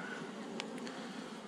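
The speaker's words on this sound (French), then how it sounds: "J'entends des petites abeilles qui tombent là" Bees buzzing at an open beehive with a few tiny taps of bees dropping, a faint, steady insect hum with two or three brief soft clicks, quiet and close.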